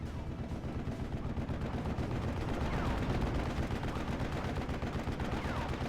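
Gunfire and machine-gun bursts crackle through a World War II strategy game battle between Panzer Lehr and 101st Airborne forces, dense rapid reports layered over a rumbling battlefield din for the whole stretch.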